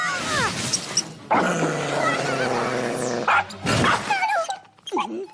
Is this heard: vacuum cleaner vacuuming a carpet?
no